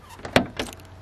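The trunk lid of a BMW M5 E39 with a broken automatic trunk motor is opened by hand, giving a couple of short mechanical clunks and clicks up close in a quiet setting.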